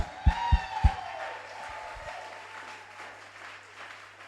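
A church congregation claps in praise of the Lord, three sharp loud claps at first, then a sustained murmur of scattered applause and crowd noise settling under a low hum.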